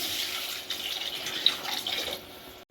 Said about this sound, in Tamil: இப்போ தண்ணி ஊற்றிடுறேன்